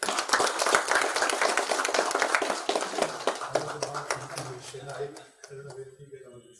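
Audience applause welcoming a speaker at the Customer Data Platform Summit 2022 in India, a short burst of clapping that thins and fades out after a few seconds as a voice begins speaking.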